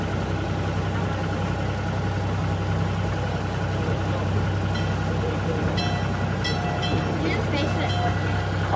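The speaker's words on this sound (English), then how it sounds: "Please remain seated until the train comes to a complete stop." A tourist train at Calico Ghost Town rumbles and idles steadily close by as it comes to a stop, with light clanks and rattles and voices talking over it.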